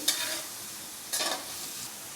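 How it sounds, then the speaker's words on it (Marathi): Carrots and green peas stir-fried in a pan on high flame for sevai upma, a faint steady sizzle with two short scraping stirs of a spoon, close by and without speech. "आता हे भाजून घेऊया गॅस मोठा करून भाजून घ्यायचे"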